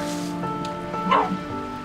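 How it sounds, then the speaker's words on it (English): A trapped dog, shut inside a room, gives muffled barks and a rising whimper, faint and distant behind a steady background hum. "You can hear the dog."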